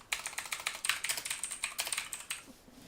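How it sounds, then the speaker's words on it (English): Typing on a computer keyboard, a steady run of crisp, close key clicks in quick irregular bursts that stop near the end. "You can do that by typing in here."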